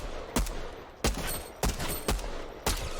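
Gunfire in Fortnite aimed at Sloan from behind a fence: five sharp, loud shots spaced roughly half a second apart over steady game background noise.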